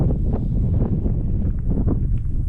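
Steady, loud wind in Mongolia buffeting the microphone with a constant low rumble and gusty roar, no voices heard.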